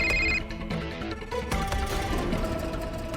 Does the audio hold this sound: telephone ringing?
yes